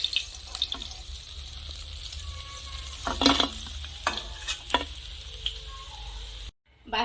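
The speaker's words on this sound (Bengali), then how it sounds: "বাকি মাছগুলো একইভাবে ভেজে নেব।" Fish fried in hot oil in a kitchen, alongside cauliflower, sizzles steadily while a utensil scrapes and taps the pan several times, close and moderately loud, ending in a brief cutoff.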